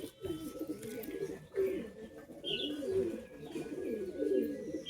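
High-flying pigeons coo in soft, rolling, repeated phrases, close by, with a faint chirp here and there and some quiet murmuring of people in the background.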